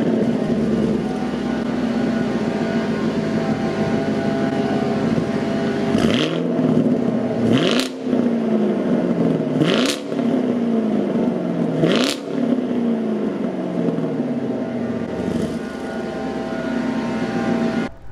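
A 2017 Chevrolet Camaro SS with a 6.2 liter V8 and performance exhaust idles with a deep rumble, then revs sharply four or five times in quick bursts, each rev dropping back to a loud burbling idle.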